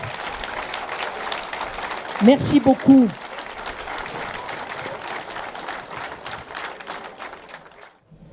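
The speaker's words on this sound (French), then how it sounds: "Je crois qu'on peut applaudir" Applause at a French Army wounded soldiers' remembrance ceremony in a town square, a moderate wash of clapping under someone briefly speaking, fading out toward the end.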